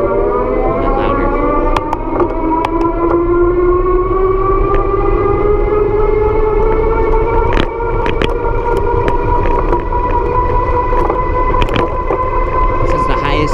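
An electric mountain bike motor, a Magnum Peak 29 at pedal assist level 6, whines loudly with a steadily rising pitch over a constant rush of wind and road noise, with occasional clicks and knocks.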